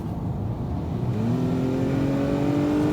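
A 2021 Acura TLX with its 272-horsepower 4-cylinder engine accelerates, the engine note climbing steadily in pitch and staying loud and close throughout, with no voices.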